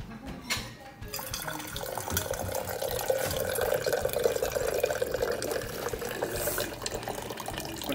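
Running water pours steadily from a tap into a water bottle, a continuous close hissing splash that rises slightly as the bottle fills.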